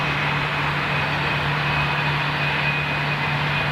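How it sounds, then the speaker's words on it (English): Qatar executive jet flying overhead, a steady, broad engine roar with a constant low hum, continuous and fairly loud throughout with no talking. "So it's not Emirates, it's the Qatar executive flight."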